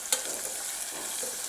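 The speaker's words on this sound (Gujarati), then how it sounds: "બધું સરસ મિક્સ કરી લઈશું." Guvar beans stirred in a pan with turmeric, coriander-cumin powder, salt and sugar: a brief hissing sizzle with a single sharp clink of the spoon at the start.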